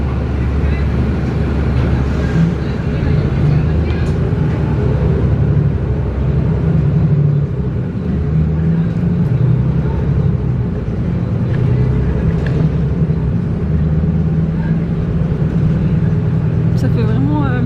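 A city bus in Dyker Heights, Brooklyn, New York rumbles steadily from inside as it slows to a stop, its low engine drone loud and continuous throughout.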